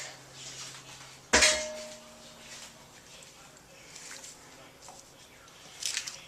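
Vegetables and garlic dropped into a pot for chili, landing as one loud clattering thump followed by faint kitchen handling and a brief scrape near the end.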